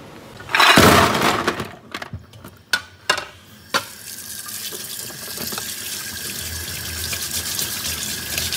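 River snails are washed in a sink with clattering knocks of shells at first, then a steady stream of running tap water that flows on evenly in a quiet kitchen.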